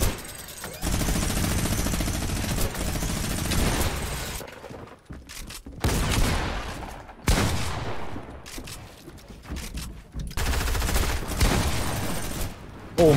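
Bursts of rapid gunfire in the battle game Fortnite, loud and dense, coming in several volleys separated by short gaps, with a player's voice faintly present.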